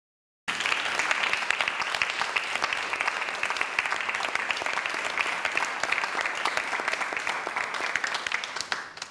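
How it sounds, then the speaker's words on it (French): Sustained audience applause at a church choir event, a dense, even wash of many hands clapping that starts abruptly and continues steadily for several seconds. "Est-ce qu'on peut acclamer?"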